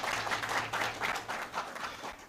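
Applause from a school district board meeting audience welcoming a new curriculum director, a soft, steady patter of many hands clapping at a distance with a low hum beneath, lasting a couple of seconds.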